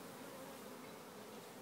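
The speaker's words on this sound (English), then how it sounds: "That, kids, is a frame of honey. And angry bees." Angry honeybees swarm around a pulled hive frame full of honey, a continuous, dense, close buzzing drone that holds steady and fairly faint with no voices.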